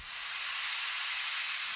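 Steady, bright hiss of white-like noise, even and unchanging, with nothing else in the background.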